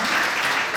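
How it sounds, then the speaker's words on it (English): A brief, dense burst of steady audience applause greets a secondary school at a debating competition, with many hands clapping evenly and no voices over it. "So let us give them a round of applause to welcome them."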